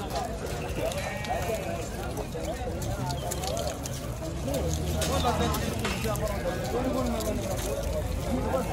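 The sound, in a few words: sheep bleating at a livestock market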